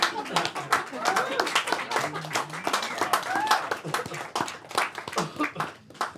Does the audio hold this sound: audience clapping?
yes